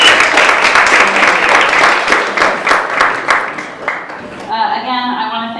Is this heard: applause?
yes